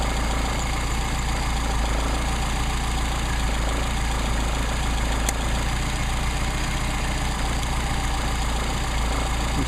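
A Mercedes 190SL engine with Solex carburetors idles steadily and loudly at close range, a continuous low throbbing rumble with an even, unchanging rhythm throughout.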